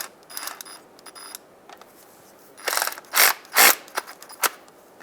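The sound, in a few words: ratchet tool snugging up a bolt on a Mazda CX-9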